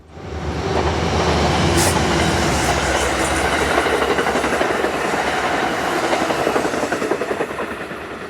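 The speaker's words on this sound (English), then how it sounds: "Amtrak 236 heads south for Penn Station with two P32s up front this morning" An Amtrak passenger train, led by two GE P32 Genesis locomotives, heads south toward Penn Station on the Hudson Line. It passes as a loud, continuous roar with rhythmic clickety-clack of the wheels, fading slightly at the end.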